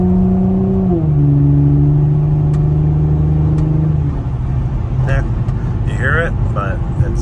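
Engine of a 2007 Infiniti G35 Coupe, windows up, under medium acceleration: a steady mid-pitched drone with rising then settling tone from inside the cabin, with someone speaking over it.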